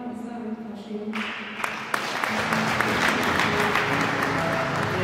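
A church wedding audience breaks into applause after a voice speaks over steady music. The clapping starts thin, then swells into dense, sustained clapping from many hands that continues under the music.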